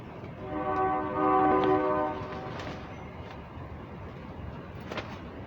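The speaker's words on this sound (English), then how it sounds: "I think that was a semi with a train horn" A semi truck fitted with a train horn sounds one long, moderately distant blast, heard outdoors near a greenhouse over steady background noise.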